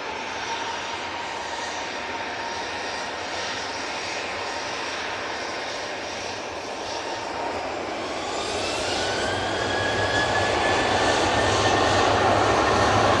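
A jet airliner roars down the runway and climbs out at Manchester Airport, a broad, steady engine rush heard from a spotting position that grows louder and brighter toward the end, with no talking.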